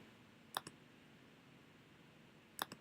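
Two sharp computer mouse clicks on a Next button while setting up a project in Android Studio, spaced about two seconds apart, each a crisp double tick against quiet room noise.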